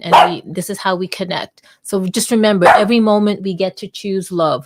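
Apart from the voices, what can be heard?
dog barking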